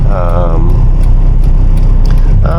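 A car drives through morning traffic, recorded from inside on a DJI Osmo Nano, a constant low road and engine rumble with light mechanical ticks while someone speaks over it.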